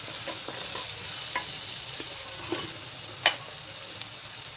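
Green chili paste sizzles steadily in hot oil, with occasional soft clicks of stirring and no voices.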